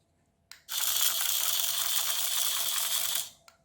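Infrared remote-control toy snail switched on, its small motor and gear mechanism whirring in a loud continuous ratcheting buzz for about two and a half seconds, starting and stopping with sharp clicks.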